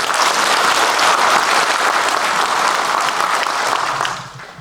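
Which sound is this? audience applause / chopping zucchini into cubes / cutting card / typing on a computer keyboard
audience applause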